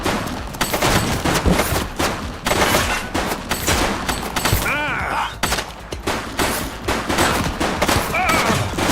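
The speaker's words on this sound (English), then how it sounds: "She's shooting!" Bursts of gunfire crackle through a tense shootout in The Precinct police action game, dense volleys and shots packed under loud game noise and voices for the whole stretch.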